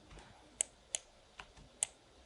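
Quiet computer keyboard key presses, four soft separate clicks spaced unevenly, as the Alt key is pressed and held during editing; faint and close with no talking.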